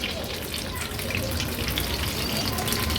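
Paneer pakoras frying in hot oil over a medium flame for a monsoon bhaji platter, a dense, steady sizzle and bubbling that stays close and even, with faint stirring and no voices.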